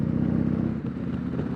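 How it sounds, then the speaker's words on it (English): A 2020 Harley-Davidson Road Glide Special with a Stage II build and S&S 475 cam idles and runs close up, giving a deep, loping, uneven rumble that dips slightly midway. "I feel like that's just a Harley sound"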